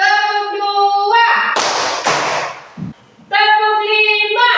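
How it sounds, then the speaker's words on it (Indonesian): A group of people clap their hands together in a concentration exercise, with two or three sharp bursts between stretches of loud singing or chanting voices. "Tepuk 1. Tepuk 2."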